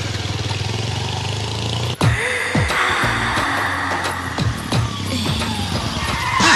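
A car brakes suddenly and skids: a loud, steady engine drone is cut by an abrupt thump, then repeated sweeping tyre squeals follow close by, with no talking.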